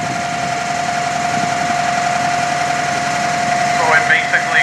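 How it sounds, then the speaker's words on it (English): A burr stone grain mill grinds grain into flour at a harvest farm demonstration, giving a steady, continuous mechanical drone with a sustained hum throughout. "we're going to grind it a little bit finer and get it down a little bit more like flour"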